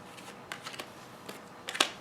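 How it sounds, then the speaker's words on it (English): Tarot cards being rearranged by hand, a few soft close flicks and slides of card stock with one sharper snap near the end, faint and quiet. "I'll have to rearrange the cards so they make sense."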